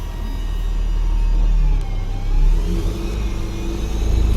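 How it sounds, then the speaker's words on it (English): A Link Transit bus engine in low gear strains against its engaged parking brake, producing a loud, deep, continuous rumble that swells slightly partway through as the engine pulls without the vehicle moving. "we're going to put the vehicle in a low gear, and we're going to attempt to pull forward, noting that the parking brake holds"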